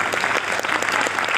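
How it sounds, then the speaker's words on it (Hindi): Studio audience applauding loudly and steadily, a dense wash of clapping hands with no voices over it. "1 करोड़ के लिए ऐसी ताली,"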